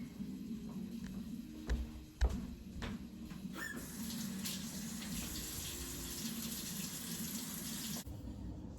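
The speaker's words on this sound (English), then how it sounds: "I have to wash the knife right away" Steady running water from a kitchen tap rinsing a knife after cutting pepper, a continuous broad wash that swells louder partway through and stops abruptly near the end, with a few clunks before the flow picks up.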